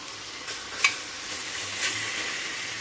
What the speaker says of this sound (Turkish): Etlerimizi mühürleyeceğiz arkadaşlar